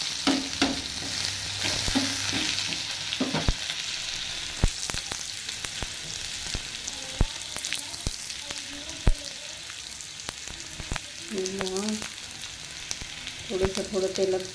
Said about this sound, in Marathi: थोडं तेलात फ्राय होऊ द्या त्याला.